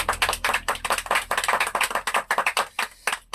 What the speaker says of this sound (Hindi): भाई मन सब ताली बजावा।